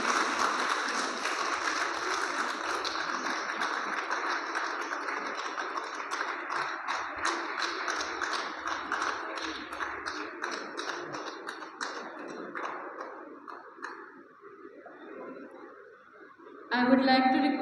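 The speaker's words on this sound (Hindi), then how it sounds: "तालियां बजाते रहिए," Audience applause at a political science department national seminar, a long stretch of dense clapping that gradually thins and fades, with a brief fresh burst at the end.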